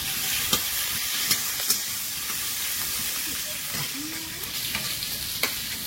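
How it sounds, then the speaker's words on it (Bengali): Chopped onions frying in hot oil with five-spice seeds and bay leaf for a yam curry: a steady close sizzle broken by a few sharp stirring clicks. "তেলে 5 ফোড়ন, তেজপাতা, ওলের তরকারি। পেঁয়াজ কুচি দেব,"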